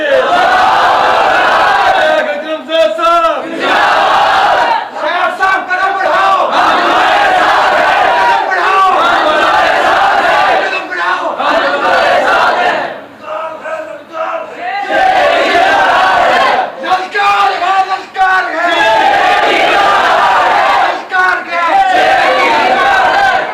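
A large crowd at an Eid Milad-un-Nabi religious gathering chants loudly in unison, with repeated surging shouts of the Takbeer response filling the clip and brief dips between waves.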